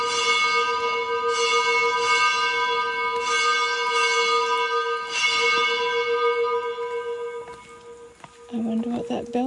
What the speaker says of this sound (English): I wonder what that bell means.